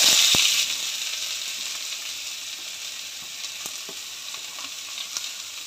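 Ingredients roast in a hot pan, starting with a loud burst of sizzling that settles into a steady, softer crackle broken by occasional small pops.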